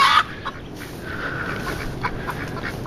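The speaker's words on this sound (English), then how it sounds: "These are 2 male Pekin ducks." Two male Pekin ducks in a garden with overgrown grass, giving a few raspy, low calls that are fairly close and moderate in volume over steady outdoor background noise.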